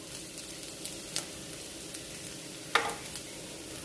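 A tempering of peanuts, onions and turmeric sizzles softly in a pan, with faint crackling and a few sharper stirring clicks and scrapes, quiet and close, no voices.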